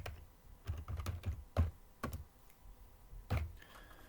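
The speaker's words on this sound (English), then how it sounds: "If I could type right now." Close typing on a computer keyboard, with irregular bursts of clacking keystrokes and brief pauses between them, no voices.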